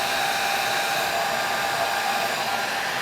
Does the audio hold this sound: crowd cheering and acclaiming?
no